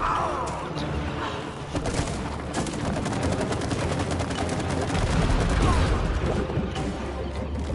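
Rapid, dense bursts of goop being shot in the video game It Takes Two, a steady barrage of sharp, punchy blasts that runs loud and continuous from start to end.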